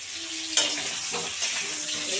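Potatoes fry in a pan at a home picnic cook-up, a steady close sizzle with a sharp clatter of stirring near the start and scraping underneath.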